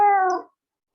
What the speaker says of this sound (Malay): Kucing siapa?